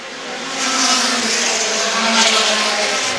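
Mini stock race cars roar around a short-track speedway during a feature race, engines loud and close with a steady droning swell that rises as the pack passes, no talk over it.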